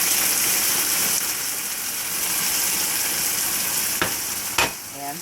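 Hot sauce hitting a hot pan with buffalo chicken gives a steady, loud broadband sizzle with no one speaking, and two brief sharp clicks or scrapes come near the end.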